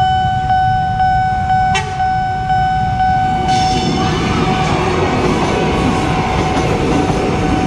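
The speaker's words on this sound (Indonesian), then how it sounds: "Sesama kereta bandara teman-teman." An airport train's horn holds a steady, loud tone at first, then the train rumbles and clatters past close by at a level crossing, filling the rest with dense rail noise.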